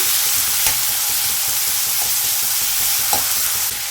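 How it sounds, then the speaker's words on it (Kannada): Onions fry in hot oil with a small piece of cinnamon and two cloves for chole masala, giving a loud, steady sizzle with occasional stirring scrapes close up. "ಈಗ ಈರುಳ್ಳಿ ಹಾಕ್ತಾ ಇದ್ದೀನಿ. ಇದನ್ನು ಸ್ವಲ್ಪ ಫ್ರೈ ಮಾಡೋಣ."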